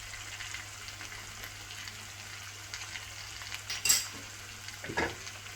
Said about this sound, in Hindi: आलू डाल के थोड़ा सा मिक्स कर देंगे।